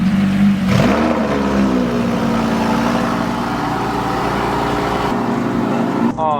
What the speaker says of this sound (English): This car's really loud, so hopefully you can hear the Huracan.